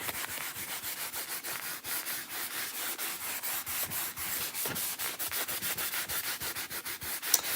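Steady rhythmic rubbing of wax over a chalk-painted white layer, gentle repeated strokes close up with a dry, scratchy sanding-like texture and no talking.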